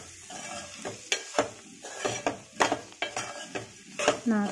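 Chicken fry being stirred in a pan, with repeated scraping and clinking strokes of a spoon against metal over a light sizzle, close and fairly loud, with no talking.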